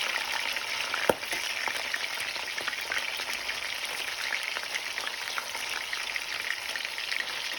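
Food frying in oil in a pan, a steady dense crackling sizzle with one sharp click early on, close and continuous throughout with no talking.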